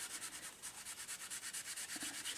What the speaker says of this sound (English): I'm just going to get a soft tissue. I'm just going to rub that